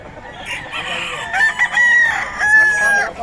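A young rooster (stag) crows nearby, a loud, hoarse, broken crow in two strained bursts with short gaps, with faint clucking around it.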